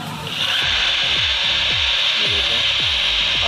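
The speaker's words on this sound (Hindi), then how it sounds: "मेरे पास तकरीबन 350 वाट की एक ड्रिल मशीन पड़ी है उसको चलाने लगा हूँ" A roughly 350-watt electric drill runs steadily with a bright, high motor whine, loud and close, while repeated low thumps or sweeps pulse about twice a second beneath it; no one speaks.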